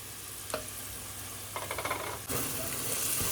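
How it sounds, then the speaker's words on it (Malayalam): Beaten egg seasoned with soy sauce, salt and pepper sizzles in a pan of vegetable fried rice, a steady close frying hiss with a brief burst of stirring scrapes and a louder surge of sizzle as the egg hits the hot pan. "ഇനി ഇതാ ഇതിൻ്റെ സെൻറ്ററിലില്ലേ നമുക്ക് എഗ്ഗ് ഒഴിച്ചു കൊടുക്കാം."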